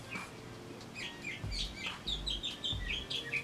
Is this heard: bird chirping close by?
yes